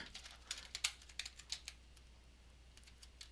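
Fingers tapping a computer keyboard up close, a quick cluster of crisp clicks in the first two seconds, then a few sparse taps over a faint low hum.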